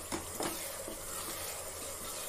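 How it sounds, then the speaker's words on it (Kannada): Moong dal halwa with jaggery being stirred in a pan, a soft continuous scraping and faint sizzle with a couple of louder strokes near the start, close and steady with no talking. "ಈಗ ಇದು ಕೈ ಬಿಡ್ಲಾರ್ದಂಗೆ ತಿರುಗಿಸ್ಬೇಕು"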